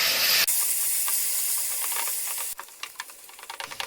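Sesame seed paste roasting in a pan over a low flame for sesame halwa, giving a steady soft hiss and faint sizzle, with a sharp change partway through and light clicks of stirring, no talk.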